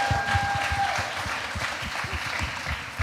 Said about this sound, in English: Let's give them a nice hand clap.